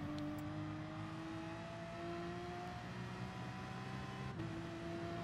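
A race car in Gran Turismo Sport at Autodrome Lago Maggiore drones under throttle, its engine pitch rising slowly and evenly with a brief shift near the end, steady and moderately loud with no voices.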